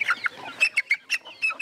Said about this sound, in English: Here we have a local chicken breed called Agon.